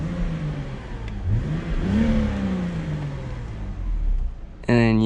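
A 2008 BMW 328xi E90 with a 230-horsepower engine and all-wheel drive, heard from inside as it accelerates with a rising, shifting drone, a voice speaking over it.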